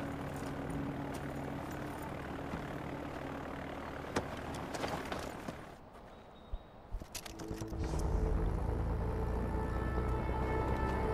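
Aircraft engine drone and propeller roar as a plane readies for takeoff in the video game Far Cry 4, a steady loud engine hum that dips briefly, then swells louder and fuller near the end.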